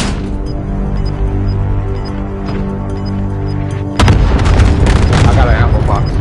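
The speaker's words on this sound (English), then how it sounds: "Allied cluster strike inbound." Cluster strike explosions in Call of Duty Warzone: a low rumbling bed with faint tones, then a sudden loud burst of booming blasts that keeps rolling heavily to the end.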